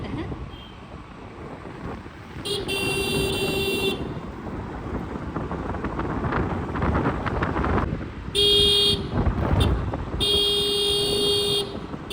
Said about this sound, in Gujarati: એને હોર્ન મારતા તો આવડી ગયું છે